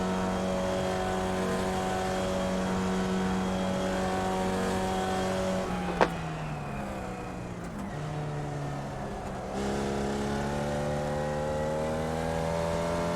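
A Skip Barber race car engine drones steadily in a racing video game, holding a loud, even pitch before a sharp click, a dip through a gear change, then climbing revs again.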